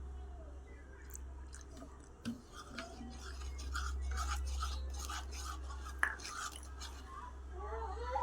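Flour batter mixed with Maggi masala, salt and water gives soft, wet squishing and light scraping in a bowl, faint and continuous, over a low background hum with a couple of small knocks.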